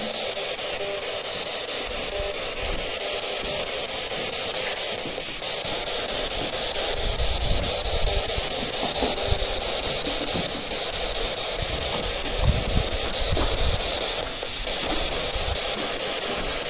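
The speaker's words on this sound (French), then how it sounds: "Alors il y a beaucoup de vent" Steady windy roar with a broad hiss and low rumbling gusts, continuous throughout, fairly loud and without talk.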